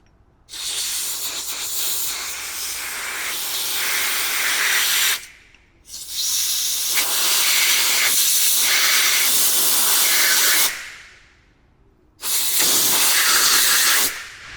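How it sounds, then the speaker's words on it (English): Compressed air at high pressure blasts across brake parts on a 2020 Ford F450 during a pad and pin service, three long loud hissing bursts separated by short pauses, with no talking. "Kind of hard to hold the compressed air with one hand."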